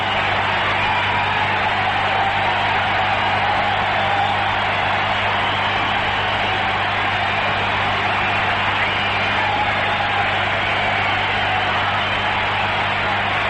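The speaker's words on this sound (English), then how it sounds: "I'll wait so you can hear the hand for Bob Forsch" Crowd at a Cardinals home game against the Cubs in the 1980s applauding pitcher Bob Forsch as he leaves the mound, a steady, sustained wash of stadium clapping and cheering heard from a distance throughout.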